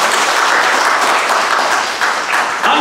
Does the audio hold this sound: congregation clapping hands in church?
yes